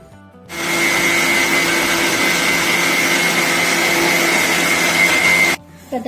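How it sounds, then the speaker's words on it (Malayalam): A mixer grinder grinds masala paste with garam masala and salt, a loud, steady whirring roar that starts abruptly, runs for about five seconds, then cuts off. "ഇനി നമുക്ക് നന്നായിട്ട് അരച്ചെടുക്കാം"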